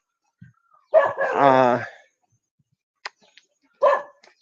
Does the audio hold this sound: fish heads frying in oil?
no